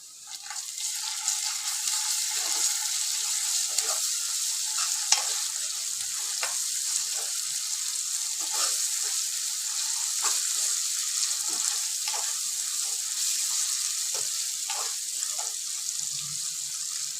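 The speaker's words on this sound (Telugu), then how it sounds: "ఈ రెండు మంచిగా ఫ్రై అయినాయి" Ginger paste and turmeric fry in hot oil, giving a steady, close sizzle for the full stretch, with occasional stirring clinks and scrapes of a spoon in the pan and no talking.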